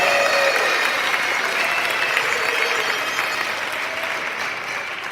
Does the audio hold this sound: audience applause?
yes